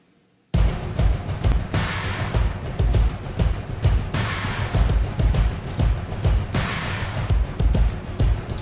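Surdos and frame drums pound out a driving beat, deep booming hits landing in a steady, repeating rhythm, loud and full, starting suddenly after a short silence and carrying on to the end.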